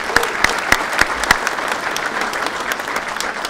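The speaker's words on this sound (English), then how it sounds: "I think we all deserve to give him a round of applause." Audience applause at a gathering honoring a coach, many hands clapping in a dense crowd wash with a few sharper nearby claps standing out early on.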